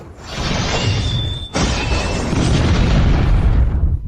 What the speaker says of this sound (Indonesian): Kembang api ini sangat keras.